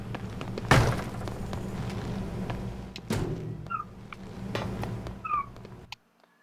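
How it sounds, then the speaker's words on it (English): A house cat meows in the background, a few faint high cries near the end among muffled thumps and game sounds. "Don't mind my cat in the background."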